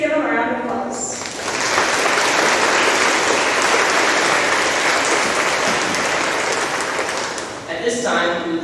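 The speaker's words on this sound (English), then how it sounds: "Please give them a round of applause." Audience at a high school homecoming coronation applauds steadily for about seven seconds, a dense sustained clapping that swells in and fades near the end, with faint voices at the edges.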